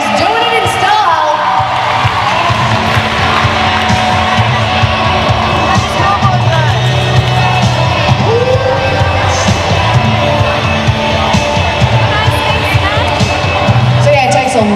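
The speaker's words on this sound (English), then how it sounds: "how about some applause for our lovely schoolgirls coming round?" Spectators at a roller derby bout in Port Macquarie keep up a steady roar of applause and cheering, with an announcer talking over it the whole time.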